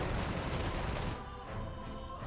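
A turret fires in the game Forspoken: a loud, dense burst of blasting for about a second that cuts off sharply, followed by quieter rumbling.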